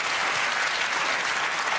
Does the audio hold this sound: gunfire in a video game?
no